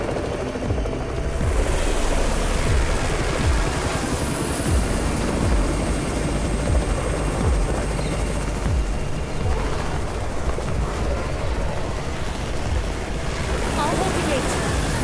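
Continuous loud helicopter rotor noise hovers close by in the zombie survival game Undawn, steady throughout, with wind-like rushing and faint background game sounds mixed in.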